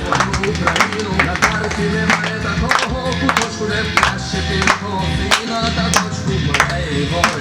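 A crowd applauds a trick rider performing Cossack-style stunt riding, with sharp, regularly spaced claps over music and a talking announcer.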